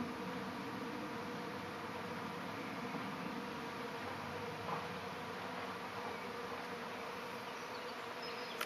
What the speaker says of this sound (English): I've never seen wasps do that before.